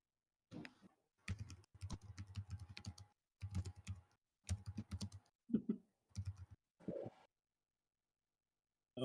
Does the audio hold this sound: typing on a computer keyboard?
yes